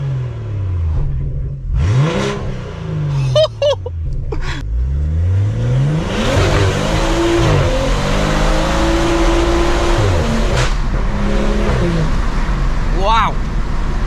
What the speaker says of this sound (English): Listen to that turbo spooling.